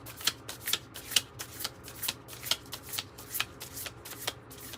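Cosmos Oracle cards being shuffled by hand in a steady run of crisp riffling bursts, close and fairly quiet, with no talk over them.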